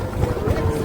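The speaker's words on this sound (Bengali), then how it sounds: "ওই দেখ বাবু জাহাজ" Engine rumble from a passenger launch boat on a river, a low, steady churn close by with wind buffeting the microphone, lasting under a second.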